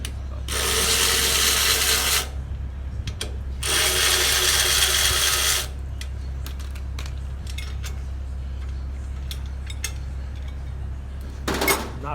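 A ratchet clicks rapidly in two bursts of about two and three seconds while loosening the axle nuts on a Kawasaki VN900 Custom motorcycle, followed by quiet with a few faint metallic taps and a short final burst of clicks.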